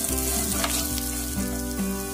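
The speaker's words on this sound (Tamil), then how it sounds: "இப்ப இதையும் நல்லா பொன்னிறமா வதக்கிக்கோங்க." Half a coconut's worth of grated coconut is roasted golden with fennel and poppy seeds for Andhra-style mutton thokku, a dense, loud crackling sizzle over a steady hum.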